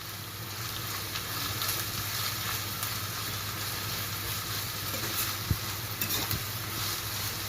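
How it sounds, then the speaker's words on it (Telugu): Chopped medium onions and slit green chillies fry in hot oil for a mutton curry, giving a steady close sizzle with faint stirring clicks, no voices. "మీడియం సైజ్ ఉల్లిపాయలను చిన్న చిన్న ముక్కలుగా కట్ చేసుకుని వేయించుకోవాలి."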